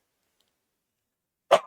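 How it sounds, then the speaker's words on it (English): A single short, sharp cough from a man with allergies in Texas, sounding close and abrupt after more than a second of silence. "Sorry about the coughs, man."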